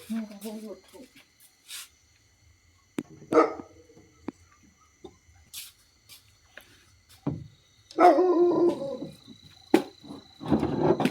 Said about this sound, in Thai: มาดึกก็เลยเห่า